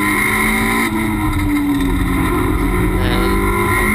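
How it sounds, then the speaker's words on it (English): Toyota MR2 race car engine at Cadwell Park, a loud continuous drone as the car slows and shifts down for a right-hand hairpin, with pitch falling and rising through the gear changes. "Slow the car down to gear for the right-handed hairpin."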